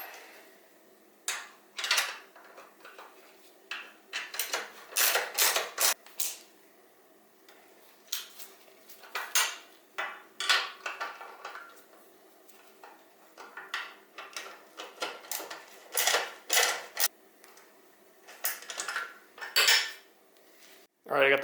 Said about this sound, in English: I'll just snug these bolts back up.